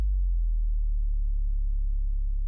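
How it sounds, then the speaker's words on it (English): Sub drop in an electronic music intro: a deep, loud sine-like bass tone that starts strong and slowly glides downward, sustaining steadily for a couple of seconds with no other sounds. "And then next we have a sub drop"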